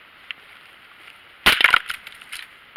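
A stick whacks at dead tree branches, one sharp woody crack and a burst of splintering and snapping twigs, close and loud after a quiet lead-in, then a few lighter rustles as debris falls.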